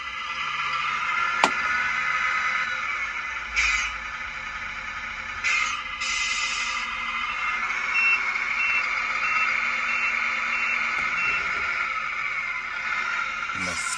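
Reversing beeps from an RC lorry controlled by a FlySky PL18 EV transmitter, a steady, fairly quiet beeping tone running throughout, with a couple of clicks and faint handling noise close by.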